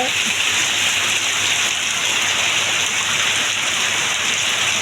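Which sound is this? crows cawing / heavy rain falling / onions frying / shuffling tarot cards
heavy rain falling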